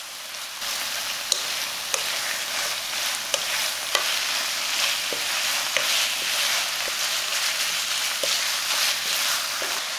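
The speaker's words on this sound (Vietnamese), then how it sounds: "mình đổ hết 300g thịt băm vào và xào chín" 300 g of minced pork stir-fries with onion in a pan, giving a steady, close sizzle broken by regular sharp clicks and scrapes of a spatula.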